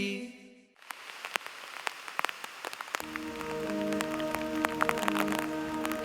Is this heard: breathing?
no